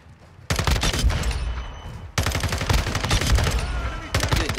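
The FSS Hurricane SMG in Call of Duty Modern Warfare 2 fires loud sustained automatic bursts in three long strings separated by brief pauses, with a voice faintly under the shooting.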